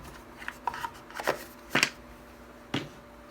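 Thick photocards are taken out and handled on a table, giving a few close, sharp taps and soft slides spread unevenly over a quiet background.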